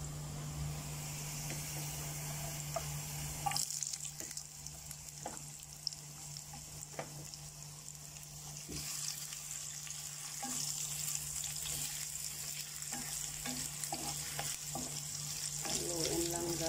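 Ginger frying in a pan for sweet and sour tuna: a steady quiet sizzle with occasional clicks of a utensil stirring, close but faint, and a low hum underneath.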